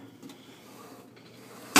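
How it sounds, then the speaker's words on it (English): A cabinet door in a metalworking shop shuts with a single sharp thud right at the end, after a stretch of quiet room hum. "and hopefully shut the door."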